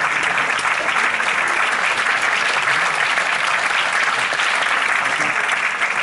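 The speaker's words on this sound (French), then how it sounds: "Applaudissez-les." Audience applause at a stage show, a dense, steady wash of many hands clapping that holds at full strength for several seconds with no voices over it.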